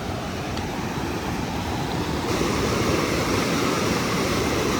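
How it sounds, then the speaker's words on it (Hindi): A mountain river rushes along on the Hampta Pass trek, a steady broadband roar of flowing water heard close and continuous, growing slightly louder partway through, with no voices. "ये नदी बह रही है"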